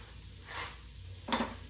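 Short hissing burst of aerosol spray onto a rusty truck suspension part, a faint puff followed by a louder, sharper blast near the end, close up with no talking.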